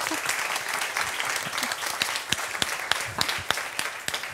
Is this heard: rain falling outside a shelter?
no